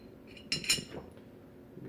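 Metal gun barrels of a CFL 100-SDI clinking and tapping together during assembly, a couple of bright close clinks in a quiet room.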